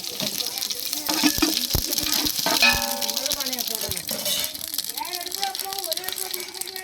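Mustard seeds, cumin, three or four dried red chillies and curry leaves sizzling and crackling in hot oil, a steady frying hiss with a few sharp pops, close by while a person talks over it.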